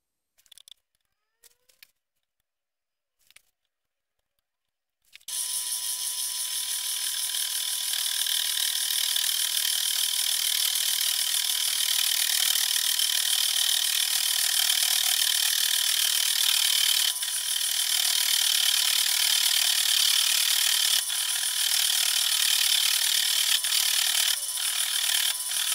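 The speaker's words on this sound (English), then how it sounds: "So I've got a boring bar attachment on here." A boring bar attachment on a homemade vertical mill enlarges a rough sawn hole in a steel top plate. A few faint clicks give way to a loud, steady, hissing machining noise that runs unbroken to the end.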